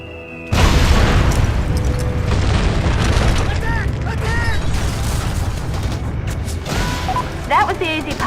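A bomb explodes in the Mercenaries 2: World in Flames game, a loud sudden boom followed by a long rumbling roar of debris and fire, with brief mechanical chirps and squeaks over the tail.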